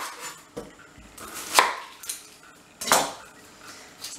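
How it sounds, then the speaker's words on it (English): A kitchen knife chops an onion on a board for a cottage pie, with a handful of sharp, irregular chops sounding up close between quieter knife-and-board taps, and no one speaking. "now what I'm going to do is chop an onion"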